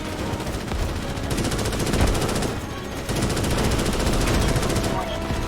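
Rapid automatic gunfire from a role-play shooter game, dense and continuous bursts of firing with barely any pause, loud and close throughout with brief dips around the middle.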